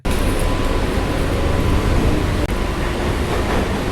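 A Chennai Beach–Chengalpattu AC local train heard from inside while running, loud steady roar of wheels and carriage rumble, continuous with a brief dip near the middle.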